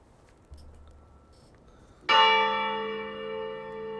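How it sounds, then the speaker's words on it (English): A loud bell strikes once in a video game, a sudden bright clang that rings on with a long sustained, slowly fading tone after a low hum. "That is the loudest fucking bell ever."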